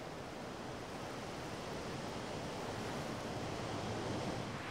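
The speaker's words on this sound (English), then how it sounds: "Waves lash the northern coast of the island." Rough sea waves lash the rocky northern coast of an island under a strong mistral wind, a dense, continuous roar of surf and wind with no break or voices.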